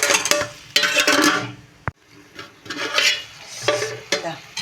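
Tomato and potato curry with fenugreek leaves stirred in a pan, scraping strokes over a soft sizzle in uneven bursts, with a sharp metallic knock in the middle.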